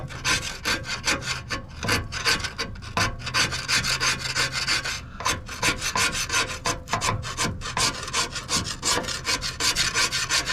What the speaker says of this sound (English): come back at it with the wire brush on the drill